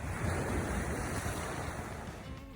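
Ocean waves break and wash toward the beach at a surf dog competition, a loud continuous rushing roar with wind noise and no talking.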